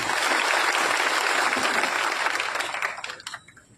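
A political rally crowd claps loudly and densely, a sustained burst of applause that thins out and tapers into scattered claps near the end.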